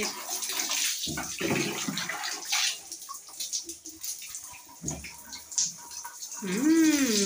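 Someone bathing, with water splashing and pouring in bursts at close range, under talk and background voices; a rising and falling tonal sound appears near the end.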